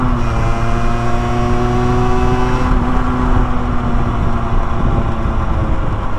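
Motorcycle engine held at full throttle around 7000 rpm, a loud, strained high-revving whine with steady harmonic tones that hold and then ease slightly, close and continuous with no talk.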